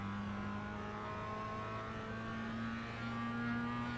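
A race car in iRacing at Okayama, a Mazda MX-5, Skip Barber or Spec Racer, drones with a steady engine note under load that swells slightly near the end, heard alone.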